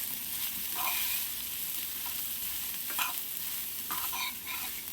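Boiled horse gram being stirred into frying onions in a pan, a steady close sizzle broken by several scraping stirs of the spatula, with no one speaking.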